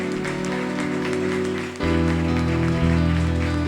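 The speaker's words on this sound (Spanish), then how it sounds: "Aplaude." Clapping from a church service congregation rises over sustained music with a steady droning chord, hands beating continuously and fairly close.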